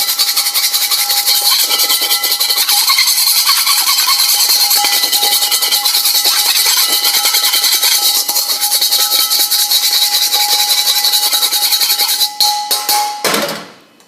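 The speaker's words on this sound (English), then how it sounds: "we want to take a set of metal tongs and perhaps scrape out that egg" Loud, continuous harsh metallic scraping and grinding as metal tongs scrape egg out of a hot pan while making fried rice, lasting many seconds before stopping abruptly.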